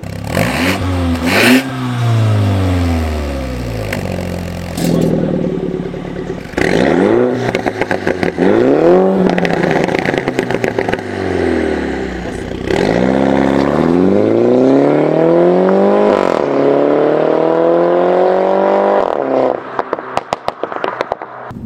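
Tuned Mini JCW 231 engine revving hard in repeated rising sweeps, loud and close, with sharp pops and crackles between the revs and no talking.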